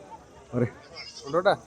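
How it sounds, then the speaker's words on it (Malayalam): A goat kid at a village livestock market bleats twice, a short cry followed by a longer wavering one, close by against faint background noise. "നല്ല ആട് കുട്ടിയാണ്"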